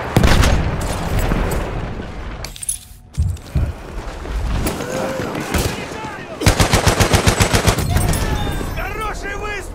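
Rapid gunfire in a video game, with automatic rifle bursts and scattered single shots, a short lull, then a fast regular stream of rounds, with voices calling out among the shooting.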